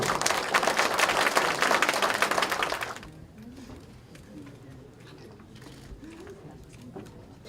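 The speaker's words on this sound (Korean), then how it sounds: "자, 큰 박수로" A burst of loud, dense crowd clapping at a party disability committee launch ceremony lasts about three seconds and then stops sharply, leaving a quieter hall with faint voices and murmur.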